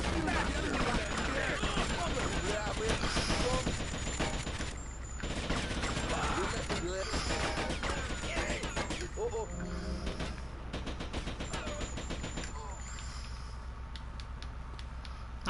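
Rapid gunfire in the video game GTA Vice City, bursts of shots and fusillades running nearly throughout under game sounds, with voices talking over parts of it.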